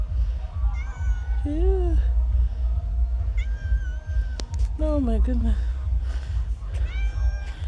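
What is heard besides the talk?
cat meowing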